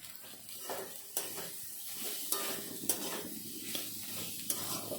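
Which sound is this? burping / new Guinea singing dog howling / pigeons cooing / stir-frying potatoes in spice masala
stir-frying potatoes in spice masala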